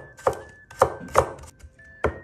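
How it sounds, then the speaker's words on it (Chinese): A knife slicing garlic cloves thinly on a cutting board, four distinct sharp chops at an uneven pace, close and clear with no talking. "先把大蒜切成薄片"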